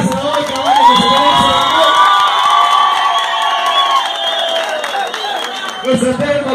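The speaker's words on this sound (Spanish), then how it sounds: "Queremos pedir un fuerte aplauso a nuestro americano hoy" A large stadium crowd cheers and shouts in a sustained roar of voices with some whoops and scattered clapping, loud and continuous before it breaks up near the end.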